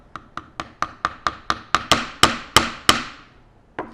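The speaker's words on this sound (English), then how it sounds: "initially doing those first few taps. Definitely scoot up your hammer." A hammer taps a nail, a close series of about a dozen sharp, evenly paced metallic strikes, growing slightly harder toward the end with one last tap after a pause.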